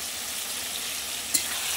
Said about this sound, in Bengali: আর দেখো, ঝিঙে ভাজা হচ্ছে, কতটা ঝিঙে।